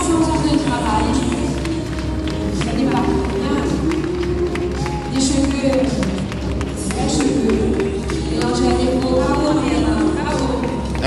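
Audience at a fashion show in Bastia applauding a dress, steady rhythmic clapping from many hands throughout, with crowd voices and background music running beneath it.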